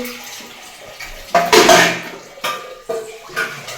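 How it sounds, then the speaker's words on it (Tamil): Water runs from a tap while dishes are scrubbed and set down, with a few clinks and knocks of pots close by. "பாத்திரம் எல்லாமே கழுவி முடிச்சிட்டேன்"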